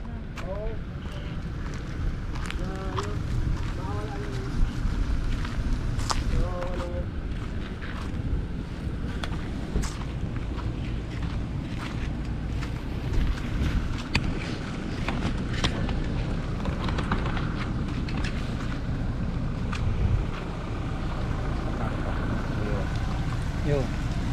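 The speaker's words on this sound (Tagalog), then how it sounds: "magsasabog na ng drone" Agricultural drone spreading rice seeds over a paddy field, a steady motor-like hum under heavy wind buffeting, with people talking nearby.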